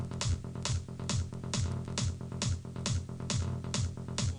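Psytrance kick and bass without EQ: a steady, driving four-on-the-floor pattern of about nine punchy kicks, each followed by rolling low bass notes, continuous and alone with no voices.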